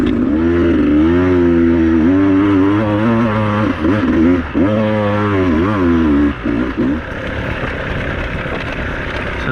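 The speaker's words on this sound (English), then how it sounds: "If you want something to throw around single tracks, this is the bike to do it." A Beta 200RR two-stroke dirt bike rides a single track, its engine loud and close, revving up and down in quick bursts with wavering pitch before settling into a steadier drone.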